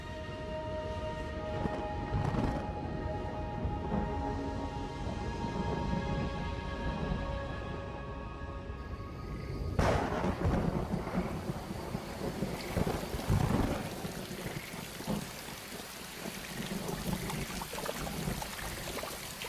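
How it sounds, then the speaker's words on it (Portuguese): Rain and a thunderstorm rolling in over the Pantanal wetland, a steady wash of rainfall with low rumbling thunder and a sharp crack of thunder partway through, close and fairly loud throughout. "A chuva já estava caindo nas montanhas ao redor e agora chega ao Pantanal propriamente dito."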